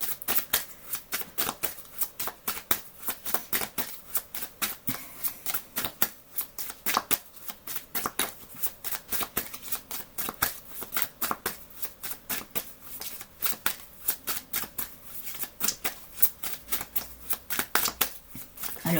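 Oracle cards from a mirror-themed deck are shuffled continuously by hand, giving a rapid, rhythmic riffle of crisp paper flicks that stays close and fairly loud throughout, with no speech.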